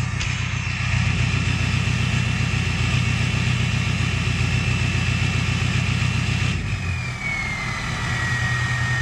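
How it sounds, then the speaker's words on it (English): A 6.0 diesel truck engine holds a steady high idle through a 4-inch MBRP exhaust, a loud continuous drone with pulsing low rumble that drops in pitch slightly near the end. "Man, that high idle sounds so awesome in this truck."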